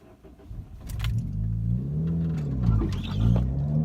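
A car's engine revs hard and steadily during an attempt at a reverse 180, a loud, continuous rising-and-falling roar up close with no talking.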